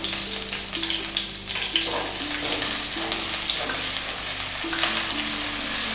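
Whole dried chilies, chopped ginger, garlic and onion fry steadily in hot oil, a dense continuous sizzle with soft crackles and occasional stirring, close and fairly loud throughout with no talking.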